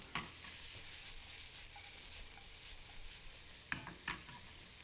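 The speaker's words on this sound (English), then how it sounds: "We'll just brown these up." Bacon lardons brown in a pan, giving a soft, even sizzle with a couple of brief scraping clatters from stirring, quiet and close, with no talk.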